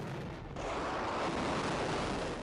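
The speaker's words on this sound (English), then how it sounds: "The SSU located one and sent the coordinates to the HIMARS crew. The missiles are launched." A HIMARS missile launch, a sudden roaring blast that starts after a brief lull and settles into a sustained, loud rushing rumble to the end.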